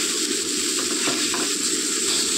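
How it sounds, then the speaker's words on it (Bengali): Fish pieces fry in hot oil in a pan for a curry, giving a steady, close sizzling hiss with a few soft bubbling pops and no voices. "দেখুন মাছগুলো কেমন লাল লাল করে ভেজে নিচ্ছি।"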